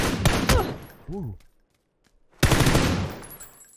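Gunfire in the video game PUBG crackles in two loud rapid bursts, separated by a brief voice and a short quiet gap.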